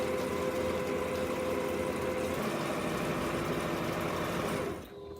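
A sewing machine stitches a quilt border with a steady, close mechanical whir that runs continuously, then cuts off abruptly near the end.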